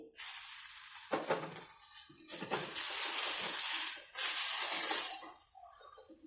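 Spices with salt and chili powder sizzle loudly as they are sautéed in fish oil, a steady hiss with occasional clinks of a utensil against the pan that carries on for several seconds, with no voice.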